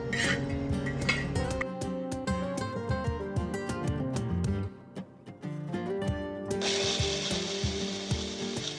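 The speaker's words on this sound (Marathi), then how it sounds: "मसाला छान गार झाल्यानंतर तो मिक्सरच्या भांड्यात टाका आणि अगदी बारीक वाटून घ्या" A mixer grinder pulverizing cooled masala with a little water for chicken curry, a loud grinding and rattling churn that cuts out briefly partway through, then starts again at full force.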